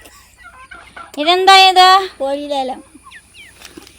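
A chicken clucks and squawks up close in a few loud, harmonic bursts, with a brief spoken question nearby and quiet chirps afterward.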